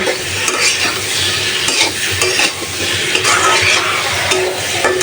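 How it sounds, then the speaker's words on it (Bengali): Hilsa fish and masala with potato, tomato and beans fry loudly in a pan, a dense close sizzle broken by frequent scraping stirs of a utensil against the metal. "ইলিশ মাছের জন্য মশলাটা ভালোভাবে কষায় নিচ্ছি আর মাছগুলো হালকা একটু ভেজে নিচ্ছে"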